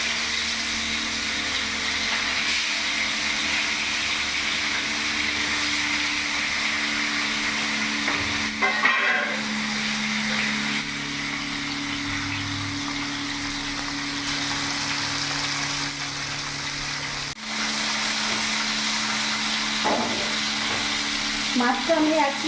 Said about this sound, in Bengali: তেলটা গরম হয়ে গেছে, এর মধ্যে আমি মাছগুলো ছেড়ে দেবো।